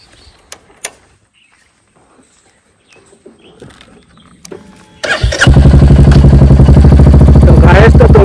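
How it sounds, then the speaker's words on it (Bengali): A motorcycle engine sits quiet at first behind a few faint clicks and knocks, then starts up and runs loud and close with a steady, throbbing idle-to-revving drone that fills the rest of the clip. "আমি বাইক চালাচ্ছি এই আমার এই 400 টাকার সেটআপে। তো তোমাদের এই আমার যেহেতু বাইকের আওয়াজ খুব লাউড"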